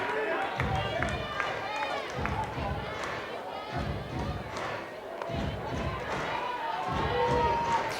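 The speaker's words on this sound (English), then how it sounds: "Just hearing that crowd noise, sounded like a full park" Full-park crowd noise at a college women's softball game between Duke and UNC Greensboro in Athens, a steady murmur with rhythmic thumps and rising cheers throughout, voices mixed in.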